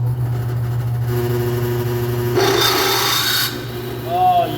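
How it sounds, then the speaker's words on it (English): A power drill boring holes in metal: a steady close whine, then a louder, harsher grinding burst as the bit bites before it eases off, with a rising tone at the end. "So let's get to drilling some holes."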